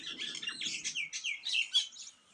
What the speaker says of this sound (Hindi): ये दोनों गौरैया इधर आ गई हैं पेड़ पे, ये आम के पेड़ पे